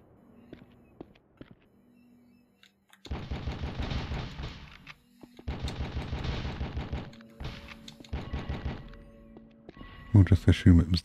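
Automatic gunfire rattles through The Fifth Element on the PS1, with several sustained bursts of rapid shots after a quieter start, closing with a heavier, louder impact burst.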